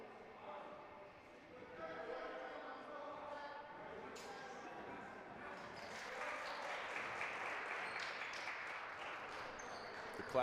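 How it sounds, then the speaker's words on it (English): Crowd applause in a gym during a boys' junior varsity basketball game, a steady wash of clapping building from about six seconds on, with voices talking underneath throughout. "They're clapping it up."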